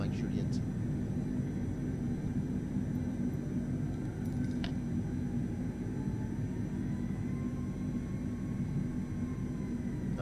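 Airbus A320neo jet engines during takeoff in Microsoft Flight Simulator 2020, a steady low rumble and whine from inside the aircraft, with a few faint clicks and no talk.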